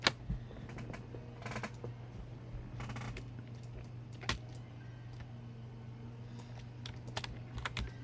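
Sticky computer keys being typed on in irregular bursts of clicks over a steady low hum, moderately close, with no one talking.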